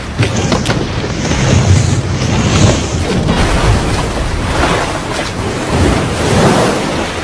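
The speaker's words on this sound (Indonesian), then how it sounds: "Satu persatu ombak pun berhasil dilewatinya" Loud, continuous surf roaring up close, waves breaking and rushing in steady surges with wind buffeting the microphone, no voices.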